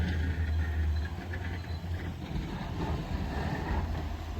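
Snow plow trucks working a road during a snow storm in Indiana, giving a steady low engine rumble with rough scraping noise and wind buffeting the microphone throughout.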